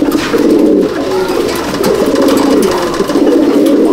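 Cooing of Lahori Siraj fancy pigeons, blue barless birds released from a loft in Howrah, steady low murmuring coos layered close together throughout, with no talk.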